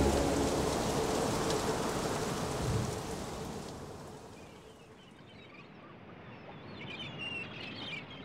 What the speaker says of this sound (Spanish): La lluvia asemeja a un verdadero diluvio.